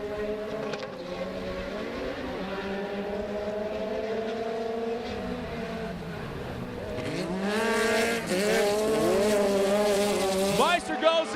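Sportsman-class stock cars race in a close pack around the Crandon, Wisconsin track, engines roaring steadily with rising and falling pitch as they pass, a loud continuous drone that swells near the end.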